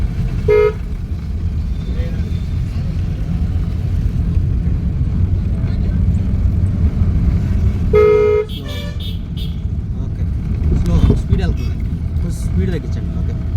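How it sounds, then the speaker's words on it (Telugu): A car horn gives two short honks in traffic while driving, the first near the start and the second about eight seconds later, over steady engine and road noise, with people talking. "హార్న్ కొట్టాలి హార్న్ కూడా కొట్టాలి"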